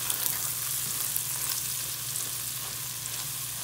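Spices stirred and frying in a pan for spaghetti with sausage and potato: a steady soft sizzle with faint scraping stirs, close and quiet, no voices.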